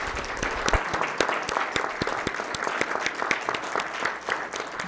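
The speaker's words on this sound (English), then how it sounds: "I think we should give our candidates a round of applause." Audience applause for candidates at a meeting, a smaller group clapping with distinct individual claps audible through the wash, moderately close and sustained for several seconds.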